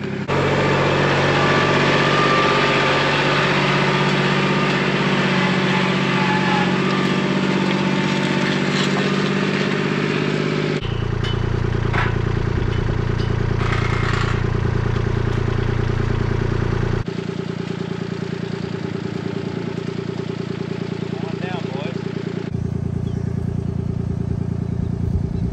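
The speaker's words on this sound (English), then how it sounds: "Let me get the tractor out and then you can go in." A tractor engine idles and rumbles steadily on a farm during feeding, with a low, continuous drone and some clatter. The tone shifts in several abrupt steps as the running continues.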